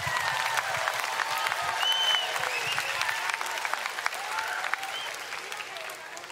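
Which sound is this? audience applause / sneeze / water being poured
audience applause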